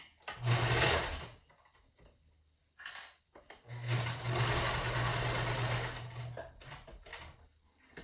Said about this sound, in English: I'm going to stitch all the way around.